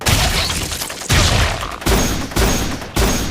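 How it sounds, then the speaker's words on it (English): Sniper rifle hip fire in a Black Lagoon video game: five loud booming shots in steady succession about half a second apart, each with a decaying tail, no talk. "this is the proper distance if you wanted to do something cool like hip firing a sniper rifle"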